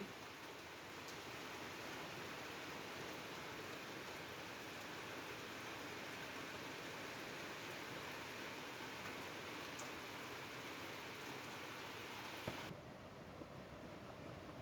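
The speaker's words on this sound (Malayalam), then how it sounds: "നല്ല മഴയാണ്" Heavy rain pours steadily, a dense continuous roar of falling water that holds constant for most of the stretch before dropping off abruptly near the end.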